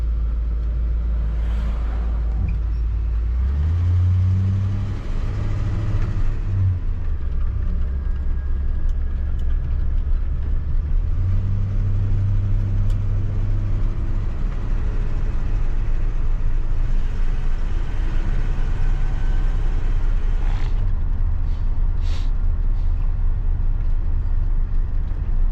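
A 1976 GMC motorhome engine idles too fast with a steady, loud rumble that holds for the whole stretch. Its low hum rises and falls a few times, with no voices over it.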